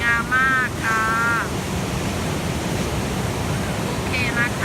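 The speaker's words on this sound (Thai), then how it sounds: "ทะเลที่นี่จะกว้างใหญ่ยาวไปเนาะชายฝั่งนะเพื่อนๆ" Ocean surf rolls steadily on the wide beach at Karon, Phuket, under an overcast sky, a constant broad wash of waves and breeze beneath a voice speaking in short bursts.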